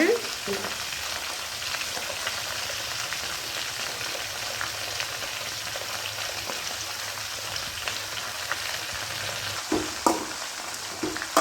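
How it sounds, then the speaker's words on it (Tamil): Red amaranth greens with onion, dried red chillies and leaves sautéing over a medium flame in a pan, giving a steady close sizzle with a few clinks and stirring scrapes throughout. "நல்லா மீடியம் ஃப்ளேமில் வச்சு வதக்கி விட்டுக்கலாங்க"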